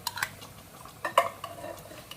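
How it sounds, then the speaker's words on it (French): A spoon stirs tomato sauce in a saucepan, with a few soft scrapes and light clinks against the metal at irregular moments, close and fairly quiet. "Et je mélange."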